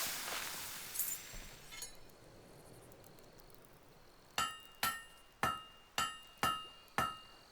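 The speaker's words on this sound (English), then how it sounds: "Great hammer work there." Seven bright, ringing hammer blows on a blade at a Fable 3 forge land in an even rhythm, each with a short metallic decay, following a few softer clinks against quiet background ambience.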